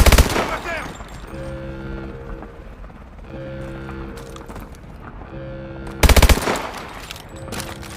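Machine gun fire in the shooter game Call of Duty Advanced Warfare, with loud, rapid bursts at the start and again near the end, plus a droning engine or rotor hum and scattered battle noise in between.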